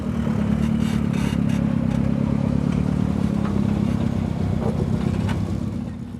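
A 4x4 off-road vehicle at a Maxxis 4XTR event in Parys climbs an incline, its engine droning loud and steady with rough low rumble and some clatter throughout, close to the microphone.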